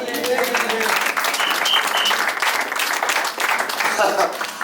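A church congregation applauds and cheers loudly in praise, a dense, steady wash of clapping mixed with voices and shouts that holds for several seconds.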